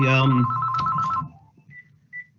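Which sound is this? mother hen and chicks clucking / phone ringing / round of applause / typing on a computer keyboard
phone ringing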